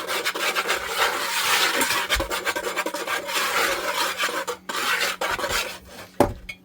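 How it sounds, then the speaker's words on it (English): Salt and dry ingredients being whisked together in a bowl, a steady close-up scraping and rasping that runs continuously with brief pauses and one sharper knock near the end. "I'm going to kind of whisk it all together"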